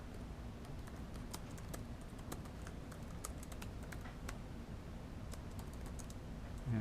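Soft computer keyboard typing as a comment is entered, light scattered key taps spread steadily over a constant background hum, faint and close.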